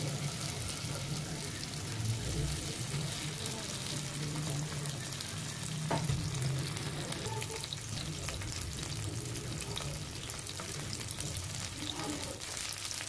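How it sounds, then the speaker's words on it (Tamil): Masala-coated sardines fry in hot oil in a pan, a loud, steady, close sizzle running throughout with faint stirring and no speech. "எண்ணெய் காய்ச்சதுக்கப்புறம் 1 மீனாக போட்டு பொரிச்சிக்கலாம்."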